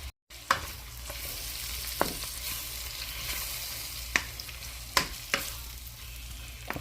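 Shrimp cooking in butter over very low heat, giving a soft, steady sizzle punctuated by a few sharp clinks and scrapes of stirring, with no talk.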